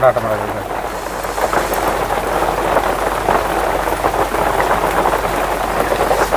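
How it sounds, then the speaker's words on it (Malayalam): Steady rain falls throughout at a village home in Kerala, a dense hiss of drops hitting surfaces that stays even and fairly loud from start to finish, with a short low hum at the beginning. "എന്തായാലും മഴ പെയ്യല്ലേ"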